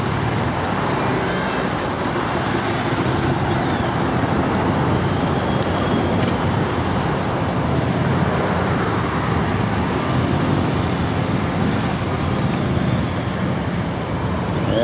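A Victory police motorcycle rides a training course at a police motorcycle event, producing a continuous loud engine and road rush mixed with wind noise.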